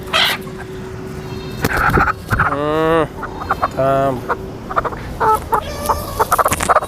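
Chickens and turkeys cluck and gobble on a goat and poultry farm, loud close bursts of several distinct calls with short gaps between them, some quieter clucking scattered throughout.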